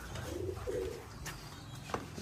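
A Machranga Baji breed pigeon coos close by in two soft low throaty calls, with a faint chirp near the end over quiet rooftop background noise.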